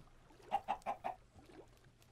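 Four quick clucks from chickens in Minecraft, evenly spaced and close, followed by a softer trailing cluck over a quiet background.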